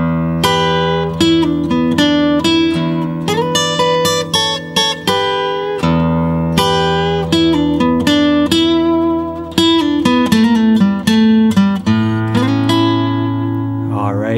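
An electric guitar solos blues licks over an E dominant 7 chord with a shuffle feel, busy runs and bent notes above a steady low accompaniment, loud and continuous without talking.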